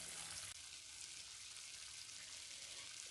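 Malai cream fries in a pan while being cooked down into ghee, giving a steady, dense sizzle and crackle throughout, close and even, with no talk.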